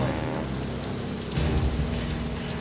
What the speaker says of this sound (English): the downpour starts